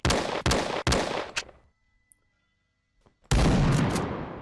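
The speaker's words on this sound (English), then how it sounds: "the shotgun will always do the trick" Shotgun blasts fired at a spider in the FPS Creator game Space Warrior: three loud, sharp booming shots in quick succession, a quiet gap, then another heavy blast with a long decaying tail.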